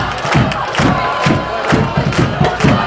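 High school football crowd roaring and cheering after a third-down conversion, a sustained dense wall of voices with rhythmic surges, loud and continuous.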